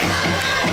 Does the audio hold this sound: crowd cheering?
yes